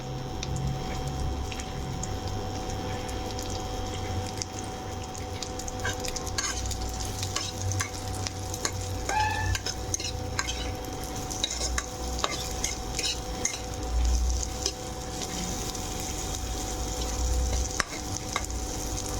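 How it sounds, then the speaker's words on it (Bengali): Sliced bitter gourd (karela) with turmeric fries crisp in a pan: a continuous close sizzle broken by repeated scraping stirs of a spatula against the pan, with no voice. "একদম কড়া কড়া করে ভেজে নেবো।"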